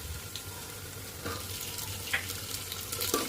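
Green peas fry in a pan with onion and ginger-garlic paste, a soft continuous sizzle marked by several light scraping clicks of stirring, close and fairly quiet with no voices.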